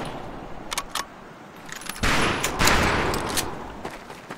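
Scoped rifles firing at long-range targets on a WWII basic training range in a shooter game: several sharp cracks spaced irregularly, with a heavier burst of overlapping shots midway, fairly close and without talk.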